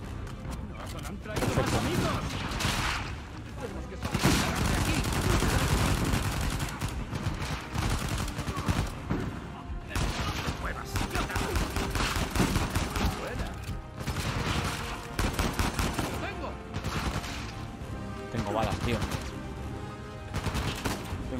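Bursts of rapid gunfire in Uncharted 4 crackle continuously over a dense, loud backdrop, with volleys of shots overlapping throughout.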